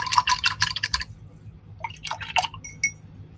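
An acrylic paintbrush swished and tapped in a jar of water, two quick bursts of sloshing, clinking rinsing with a short pause between, close and alone.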